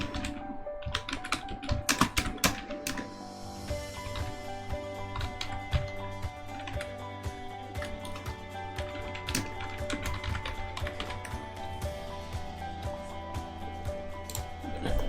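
Computer keyboard typing in Microsoft Word, rapid irregular key clicks running steadily throughout over a dense, busy background.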